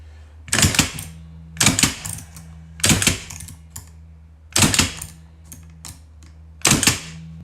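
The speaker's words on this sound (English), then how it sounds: "So now what I do is I slide this to each of these cut depths and I'll punch." A key punch machine stamps cut depths into a key blank, giving five loud, sharp mechanical punches spaced about a second apart, each with a brief rattle, over a steady low hum.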